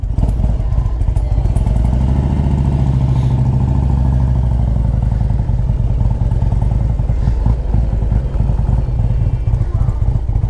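A 2001 Harley-Davidson Ultra Classic with an S&S top-end motor idles loudly and close, a steady deep lumpy rumble with rapid uneven exhaust pulses, running cold just after start-up.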